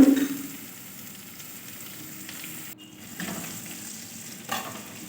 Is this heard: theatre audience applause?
no